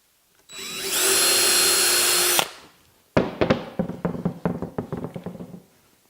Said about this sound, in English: I'm going to go ahead and pilot and get these front screws in